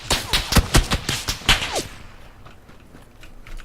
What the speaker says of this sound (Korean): 저쪽 집 쪽에서 쏘고 있어